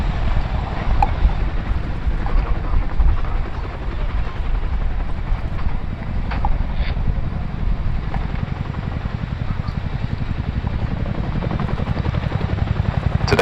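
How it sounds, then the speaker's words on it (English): An RAF Chinook helicopter hovers during a role demonstration, its twin rotors producing a loud, continuous, throbbing thud with steady rhythmic beating and wind rush, unbroken throughout. "Today the Chinook simulating conducting an essential weapons drop-off close to the front line"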